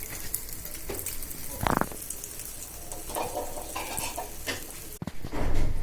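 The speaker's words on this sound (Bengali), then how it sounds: "এবার হলুদের গুঁড়া, মরিচের গুঁড়া মেখে রাখা ডিমটা দিয়ে দিচ্ছি।" An egg coated in turmeric and chili powder hits hot oil in a pan, bursting into a loud sizzle that settles into steady frying with a few sharp spatters and a clatter near the end.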